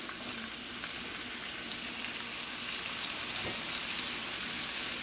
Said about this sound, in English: So now I'm going to add my red peppers.